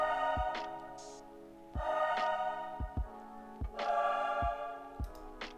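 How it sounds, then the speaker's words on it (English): Short choir hits stab in time within an epic hip-hop beat, each sustained chord landing over punchy low kick drums in a steady, moderately loud rhythm. "Just a short hitting choir."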